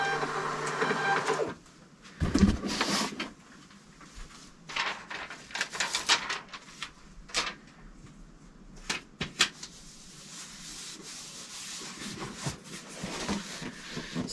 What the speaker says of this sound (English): Keep forgetting to push the print button. I'll push the print button.